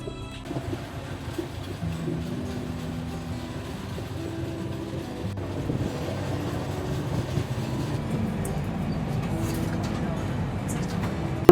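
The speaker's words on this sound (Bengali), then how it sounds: "ট্রেন এসে পৌঁছেছে দুর্গাপুর স্টেশনে" The 19414 Kolkata–Ahmedabad Express rolls into Durgapur station, heard from inside an AC 3-tier coach as a steady low rumble and rattle of the moving train, with a voice speaking over it.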